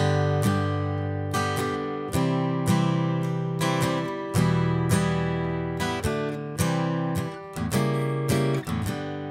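Acoustic guitar strumming the lead-in to the chorus of a song, bright full chords struck at a steady pace with ringing sustain between strums, played alone and close.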